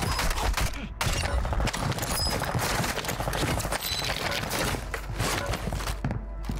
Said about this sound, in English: Is that you shooting, sir?